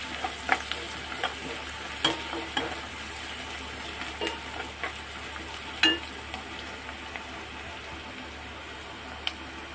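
Soybean chunks and egg masala fry in a pan with a steady, close sizzle, broken now and then by the scrape and clink of stirring.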